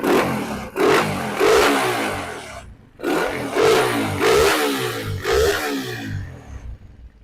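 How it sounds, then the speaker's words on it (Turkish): A rebuilt 200 engine with a 02 system is started and revved in a workshop, rising in a series of loud throaty bursts with gaps between them, close and without talk. "Şöyle hemen sizinle birlikte marş yapmak istiyorum."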